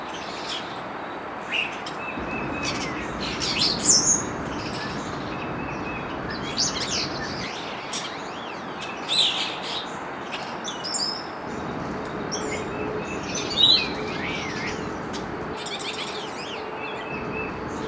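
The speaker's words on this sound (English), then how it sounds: "mostly we're just trying to get some bird sounds" Several birds chirp and tweet intermittently outdoors, some calls brighter and closer, over a faint steady background hiss.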